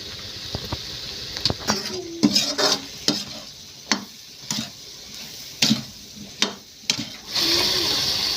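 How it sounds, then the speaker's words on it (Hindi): Masala spices for chicken curry sizzle and fry in a pan while a spoon stirs and scrapes, with irregular clinks and taps against the pan over a steady frying hiss. "मैं भी छोड़ देती हूँ थोड़ी देर के लिए मसाले को भुजाने के लिए"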